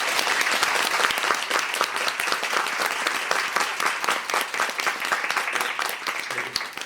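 An audience at a musical theatre performance gives warm, dense applause, steady and loud throughout with no clear pauses.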